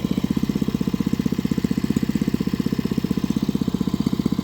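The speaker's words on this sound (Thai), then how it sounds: "สูบน้ำใส่หน่อไม้" A small engine-driven water pump runs steadily, pumping water onto bamboo shoots, with a fast, even thumping putter that stays loud and close for the whole stretch with no talk.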